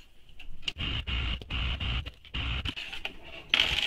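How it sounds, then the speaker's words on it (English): A sewing machine stitching the bottom edges of a tote bag, a rapid mechanical whirring and ticking that starts and stops in short bursts. "we're going to sew this as well with the seam allowance given in the pattern"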